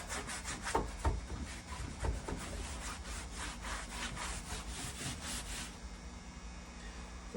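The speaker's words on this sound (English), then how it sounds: "This is actually a paint I'm going to rub in." Paint rubbed by hand into rough pallet wood, giving a steady run of close, dry scrubbing strokes in a quick back-and-forth rhythm that eases off near the end.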